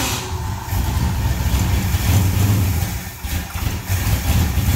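A 1977 Ford short bed pickup truck engine runs loudly at a rough, steady idle close by, with a low uneven rumble throughout and no talking.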